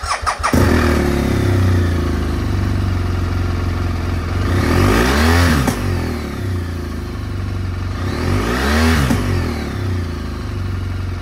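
A 2014 BMW R1200GS motorcycle in stock condition starts with a quick cranking burst, then settles into a steady, close idle, with two smooth revs rising and falling around the middle and end, no talk.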